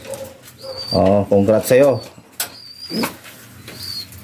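A pigeon coos in short throaty phrases near the start, then a person speaks over faint high bird chirps and distant background sounds.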